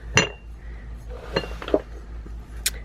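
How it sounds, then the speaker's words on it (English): Ceramic dish of a Scentsy wax warmer being handled, giving a few sharp, close clinks spaced irregularly with faint handling rustle between, no talk. "here's the dish that you put the wax melt in"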